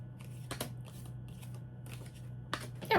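Tarot cards being shuffled by hand, with a few crisp riffling bursts spread across a quiet background hum, up close and fairly soft.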